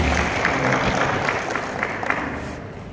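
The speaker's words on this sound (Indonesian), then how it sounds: "Tepuk tangan semuanya." Audience applause at a university welcome ceremony for new postgraduate students, as a director steps onto the stage; a loud burst of many clapping hands that gradually thins and softens.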